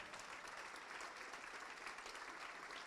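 A church congregation applauds together in steady, continuous clapping that stays even and fairly distant throughout, with no talk over it.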